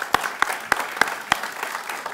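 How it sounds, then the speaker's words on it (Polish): At a debate in a Warsaw theatre, a few sharp, separate hand claps ring out close by at a steady, unhurried rhythm over a quiet hall, sparse rather than a full ovation. "Brawa."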